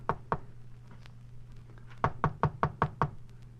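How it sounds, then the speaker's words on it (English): Knuckles rap on an apartment door, two quick knocks followed after a pause by a steady run of about six firm knocks, fairly crisp against a low background hum. "I knocked."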